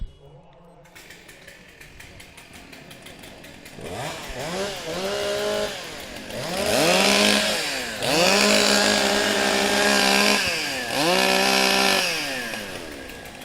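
Chainsaws warming up backstage at a STIHL Timbersports women's and rookie championship in New Zealand, starting quietly then revving in repeated loud rising-and-falling bursts, several overlapping, with a crowd murmur and announcer faintly beneath.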